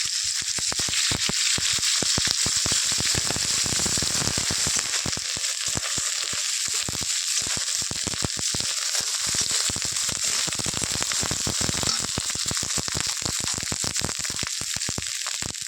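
Ginger and cumin paste stirred and frying in a hot pan of oil for a vegetarian soybean and potato curry, a loud, dense, continuous crackling sizzle with sharp pops throughout.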